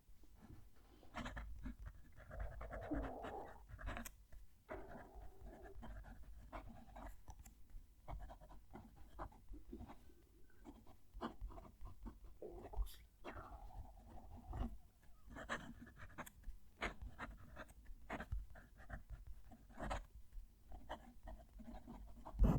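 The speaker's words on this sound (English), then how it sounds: "Going to move the mic down to the page so you can hear the pen write." Fountain pen nib scratching across paper, close and faint, with soft irregular strokes and small taps.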